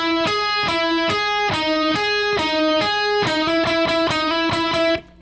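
Electric guitar playing the lead line, a clear repeating pattern of plucked single notes in a steady rhythm, ringing out alone before stopping abruptly at the end.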